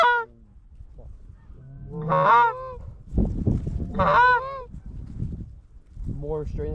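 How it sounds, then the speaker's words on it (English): Geese fly in toward a field hunting party, and a flock sounds repeated loud honks close overhead while hunters murmur and shift beneath them. "shitload of geese coming to our left"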